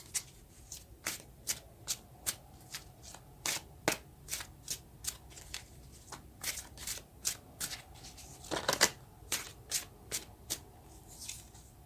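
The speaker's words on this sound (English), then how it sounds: "now we can take a card for the Four of Pentacles" Tarot cards being shuffled by hand, a rapid series of crisp riffling slaps repeating roughly every half second, close and fairly quiet with no talk.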